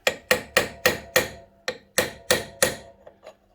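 A hammer taps a chisel against the gear shaft of a Triumph Bonneville T140 during a primary drive stripdown, about nine sharp close metallic strikes in a steady rhythm, then two faint lighter taps, with no talk.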